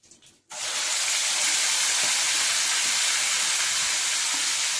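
Prawns dropped into a hot pan with mustard seeds and curry leaves, a short rattle followed by a sudden loud, sustained hissing sizzle that stays steady and close to the end, no voices.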